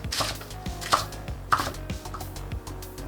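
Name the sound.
chopping romaine lettuce into bite-size pieces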